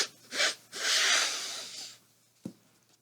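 A voice imitates a flea sniffling: a couple of quick, breathy nasal snorts, then a longer hissy intake of breath, fairly close and soft, followed by a brief faint thump.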